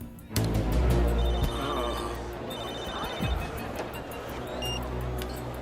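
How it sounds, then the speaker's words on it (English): A telephone rings in a tense action-thriller scene, its electronic trill repeating in short bursts over a low rumbling background, fairly close and moderately loud. "Phone."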